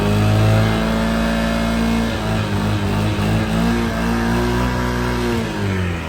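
A Grizzly ATV engine in need of a rebuild revs steadily and loudly up close, a continuous mid-pitched drone with a few swells and no voices.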